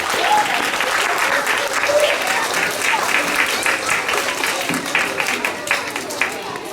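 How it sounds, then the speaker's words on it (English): Audience at a school Christmas assembly breaks into sustained applause, a dense steady wash of clapping from many hands with a few louder bursts, filling the room throughout. "So let's give them a big round of applause."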